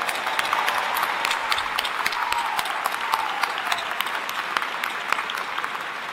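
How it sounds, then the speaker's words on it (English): At a chancellor's installation celebration, an audience applauds a choir soloist and director with sustained, moderately loud clapping and scattered sharp individual claps standing out. "And can we give a special round of applause to the soloist and director, Roberta Laws?"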